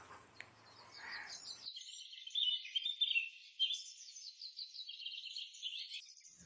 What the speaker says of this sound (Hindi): चिड़िया की चहचहाहट से वातावरण संगीतमय हो गया।